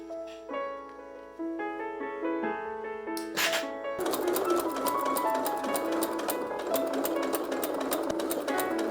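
Music with plucked notes plays, then a sewing machine stitching the lining of a superhero costume rattles in a fast, steady, close run that continues to the end.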